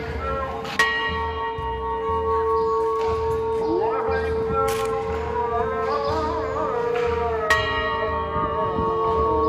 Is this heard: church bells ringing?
yes